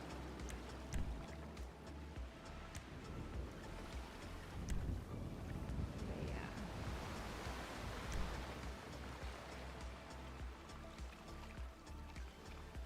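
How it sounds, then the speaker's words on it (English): Ocean waves wash in Grand Theft Auto V, a broad, steady rushing surge with wind-like hiss that swells in the middle and then eases, continuous and without speech. "Hear the waves slowly fade away."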